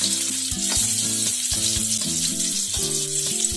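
Four onions and garlic hit well-heated oil in a home kitchen, giving a steady, loud hiss and sizzle throughout, with music playing underneath.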